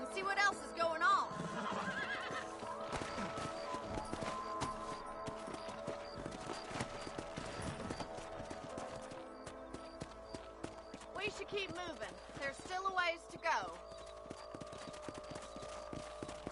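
Horses whinny and trot in Red Dead Redemption on PS5, clip-clop hoofbeats running steadily beneath someone talking, with a neigh standing out near the end.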